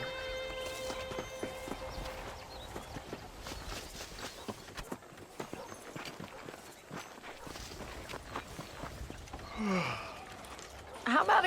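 Horse hooves clop along at an uneven walking pace in Red Dead Redemption, moderately close amid scattered ambient noise, with a brief vocal sound near the end.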